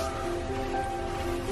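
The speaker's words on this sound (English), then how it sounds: "Is this rain gonna stop?" Rain falls on a camper van, a dense, steady patter drumming evenly on the roof with no pauses.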